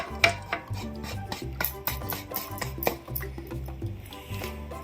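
A spoon stirs chocolate melting in hot milk and cream in a pot, making repeated light scraping and clinking strokes against the metal in an irregular rhythm, close and moderately quiet.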